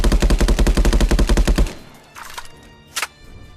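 Rapid automatic gunfire from a VR first-person shooter empties a magazine in a fast, loud, even burst of about twenty shots lasting under two seconds, followed by a few faint mechanical clicks and thumps.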